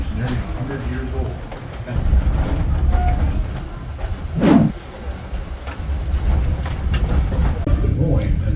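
An old electric interurban rail car on a scenic ride, its steady low rumble and wheel noise running throughout with occasional clacks and a brief louder swell midway, while people talk in the background.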